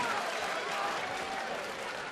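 Darts crowd at the Lakeside BDO World Championships applauding after a finish, a dense, steady wash of clapping and crowd noise throughout.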